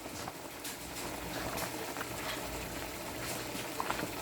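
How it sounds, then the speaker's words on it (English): Hot water drained from a pot of freshly cooked noodles for chicken pancit guisado, a steady gushing, bubbling flow of liquid heard up close for several seconds with no talking. "So I'll have to drain out the water here."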